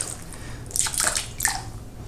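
Hot water and mineral spirits drip from the chamber and barrel of a 1933 Tula Mosin Nagant rifle during cosmoline removal. A few close, splashy drips land over a steady background hiss.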